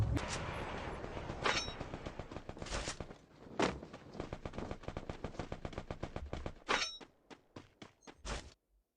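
Gunfire in a shooting video game, with rapid bursts of automatic shots punctuated by several louder single blasts. The shots are close and sharp, and the bursts stop and start irregularly before fading out.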